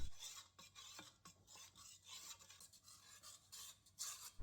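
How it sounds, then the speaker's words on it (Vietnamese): Flour being stirred by hand into pandan leaf water in a large bowl, a soft close rasping and swishing with irregular strokes, no voices. "Mình vừa cho nước vào, vừa trộn đều tay để cho bột của mình được dễ dàng tan vào trong nước."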